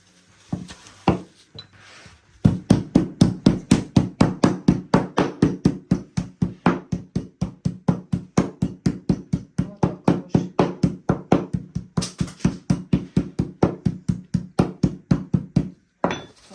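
A hammer borrowed from a neighbour strikes repeatedly in a fast, steady rhythm, dozens of sharp close knocks in a row after a few scattered taps at the start, with no talk.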